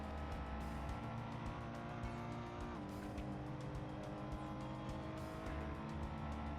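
A sim-racing car at Zandvoort screams at full throttle through a high-speed right-hander in a Ferrari esports qualifier, its engine a loud, sustained, near howl with slight pitch shifts as it gears up.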